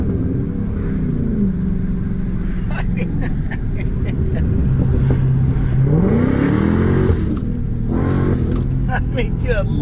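A Dodge Charger Redeye engine revs and accelerates up close, loud rising and falling engine pitch sweeping in bursts, with a second climbing surge near the end and people talking over it.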